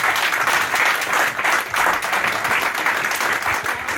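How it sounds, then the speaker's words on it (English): An indoor audience at a football supporters' trust annual general meeting applauds, a steady burst of many hands clapping throughout. "applause, please, everyone."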